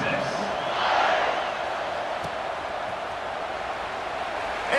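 A college football crowd at Ohio State vs Texas roars steadily in a stadium, swelling briefly early on and then holding a loud, continuous din. Commentary talk runs over it.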